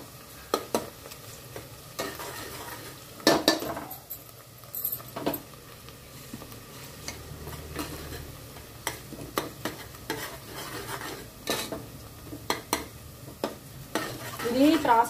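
Two spoons of ginger garlic paste sizzle in hot oil and are stirred in a pan, with steady frying hiss and repeated scraping and tapping of the spoon throughout.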